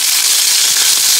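Garlic and lemongrass sauté in a skillet with a loud, dense, continuous sizzle that holds steady from start to finish, with no voices over it.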